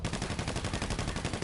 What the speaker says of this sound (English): Okay, start shooting.